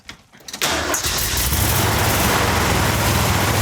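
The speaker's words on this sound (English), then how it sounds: "Prime the carburetor." A Jeep CJ7 engine cranks briefly after its carburetor is primed, then catches and settles into a loud, steady idle.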